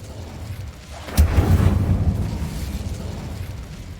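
Incendio fire spell cast in Hogwarts Legacy, a sudden loud whooshing burst of flame that swells and then fades into a lingering fiery rumble, alone without talk.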